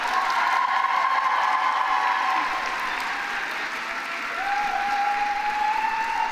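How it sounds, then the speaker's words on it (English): Graduates at a Simon Fraser University convocation ceremony in June 2023 break into sustained applause and cheering, a dense, loud wall of clapping from a large hall crowd that carries on steadily without pause. "reciprocate by applauding your family, friends, faculty and staff"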